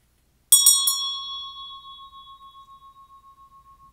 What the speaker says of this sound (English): So I'm going to go ahead and ring my bell.